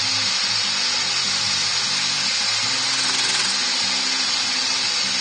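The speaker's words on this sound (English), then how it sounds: "And then crank up the lathe speed." Woodturning lathe spinning a wooden bowl at high speed gives a loud, continuous broadband whoosh with a steady motor hum beneath, unbroken throughout and with no voices.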